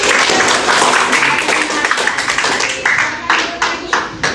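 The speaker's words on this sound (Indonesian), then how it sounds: "Tepuk tangan untuk" A classroom of students applauds, a loud, dense patter of many hands clapping up close that thins into scattered separate claps near the end.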